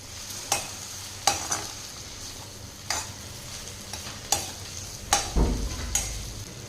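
Tomatoes sautéing with salt in a pan for a capsicum gravy, a soft sizzle broken by about seven sharp scraping stirs, with a heavier knock of the pan near the end.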